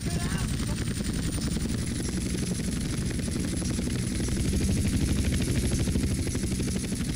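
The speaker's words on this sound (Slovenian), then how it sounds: "Land helikopter." A helicopter in GTA San Andreas comes in to land with a loud, continuous rotor chop, steady rapid thumping with a high engine whine.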